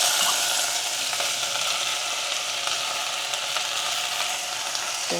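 Okra tossed into hot oil seasoned with asafoetida in a pan gives a continuous bright, hissing fry with a few faint clicks of utensils, steady and moderately close, and no speech over it.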